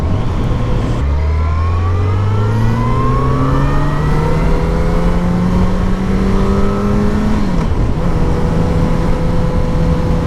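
A new motorcycle pulling away from a stop and accelerating, engine pitch climbing steadily through first gear, dropping at a gear change, then rising again, loud and close, no talking.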